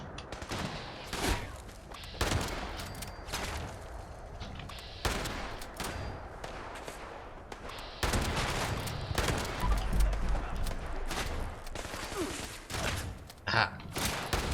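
Rapid, dense gunfire from Fallout 76, with repeated sharp volleys and bursts of shots cracking across a noisy battle, fairly close and continuous throughout.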